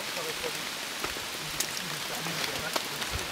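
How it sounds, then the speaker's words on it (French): Steady rain patters on a tarp over a hammock camp, a dense, even hiss of drops with occasional louder taps close by. "Oh, la pluie se calme un peu,"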